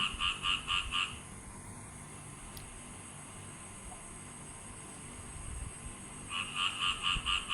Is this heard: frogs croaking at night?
yes